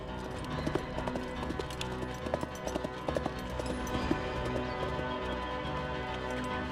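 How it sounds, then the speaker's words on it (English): Horses in a cartoon gallop with rapid, rhythmic clip-clopping hooves that stay steady and fairly loud under a busy soundtrack, with sharp hoof clacks standing out. "Go to the stables and bring some horses."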